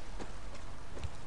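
A horse's hooves clip-clop in the video game Far Cry 6, a few soft hoof beats at an uneven pace, fairly close, with no talking.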